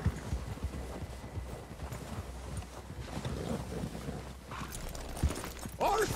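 Horse hooves gallop in Red Dead Redemption 2, a fast, continuous clip-clop rhythm heard close, with wind noise and occasional rattles in the background.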